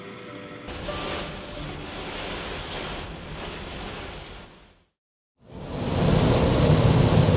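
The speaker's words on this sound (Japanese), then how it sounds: "今日はね、見ての通りのかなりの雨です。" Heavy rain and strong wind hit a camper van parked overnight at a highway rest area, a loud steady roar that cuts out briefly and then returns even stronger.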